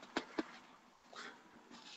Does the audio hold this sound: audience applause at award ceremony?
no